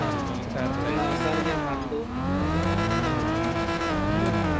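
A tuned car at a car show revs hard with a turbo whistle, its engine note climbing in pitch, dipping briefly at a gear shift, then rising again, loud and close.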